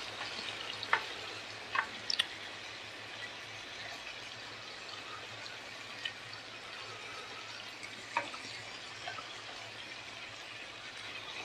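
Squid cooking on a hot pan, a faint, steady sizzle running throughout with a few sharp pops and clicks breaking through.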